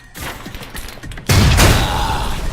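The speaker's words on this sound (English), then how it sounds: "Try and chuck one beneath the truck and take out the gas tank." A grenade detonates beneath a truck's gas tank in a video game, a sudden loud blast after scattered thumps, followed by a sustained roaring fiery rumble.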